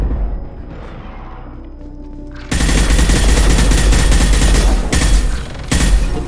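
Gunfire in the Mass Effect 2 video game erupts after a quiet stretch of about two seconds and becomes a loud, dense, sustained barrage of rapid shots with heavy booming impacts. It pauses briefly twice before the shooting resumes.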